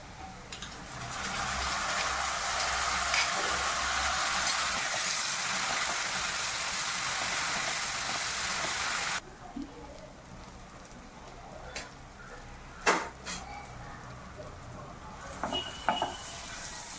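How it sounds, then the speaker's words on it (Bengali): Onions fried deep red, frying in a pan with spice masala and being stirred, a dense sizzle for about nine seconds, then quieter stirring with a few sharp scrapes and clinks. "এবারে আমি এই মশলাটা মিক্সড করে দিচ্ছি।"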